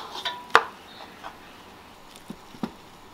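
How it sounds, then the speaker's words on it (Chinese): A knife chops fried eggs on a cutting board with a handful of sparse, sharp thuds, one louder strike early and a few lighter cuts after, in an otherwise quiet kitchen. "两面都煎熟了，就把它切小哈。"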